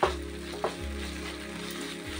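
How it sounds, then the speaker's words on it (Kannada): Spiced masala paste sizzles steadily in a pan while being fried for a pomfret fry, with a continuous close crackle and a couple of soft stirring scrapes, no voices. "ಮಸಾಲೆಯನ್ನು ಇದಕ್ಕೆ ಹಾಕಿಕೊಂಡು ಚೆನ್ನಾಗಿ ಫ್ರೈ ಮಾಡಬೇಕು."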